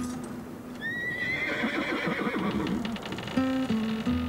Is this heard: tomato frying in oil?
no